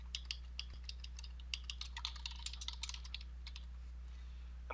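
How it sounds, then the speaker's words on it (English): Light, quick keystrokes on a computer keyboard, tapped in short irregular bursts as text is entered, heard alone over a steady low electrical hum, with a louder click at the very end. "we can type in the from name, our email address, the subject line, and our message"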